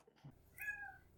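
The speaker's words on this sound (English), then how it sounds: "I didn't know we had a studio cat." A cat in a podcast studio gives a single short, fairly faint meow in a quiet room, after a brief sound from nearby.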